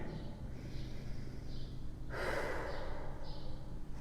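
Slow, steady breathing during a restorative core yoga pose, with a long audible exhale swelling near the middle over a low room hum, close and fairly soft.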